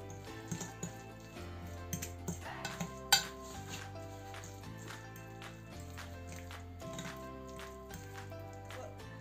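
A utensil scrapes and taps against a bowl while mashed egg yolk is mixed with spoonfuls of mayonnaise for stuffed eggs, giving a run of quick clinks and soft squishy strokes, close and fairly quiet, with faint background music.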